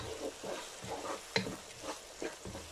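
Chicken keema is stirred in a pan with lemon juice, turmeric and black pepper, making soft rhythmic scraping and gentle sizzling strokes close up, with one sharper clink of the utensil against the pan.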